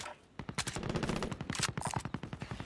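Submachine gun fire in an online shooter video game, rapid sustained bursts of close, punchy shots with a short pause near the start, loud and dense.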